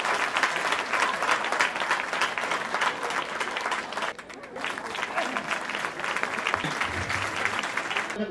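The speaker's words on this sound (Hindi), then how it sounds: "तो इनके लिए जोरदार ताली होनी चाहिए इनके लिए।" Loud, sustained applause from a crowd at an award ceremony for service volunteers at the Gangasagar Mela 2024 in Kolkata, dense clapping continuing throughout with a brief dip partway through.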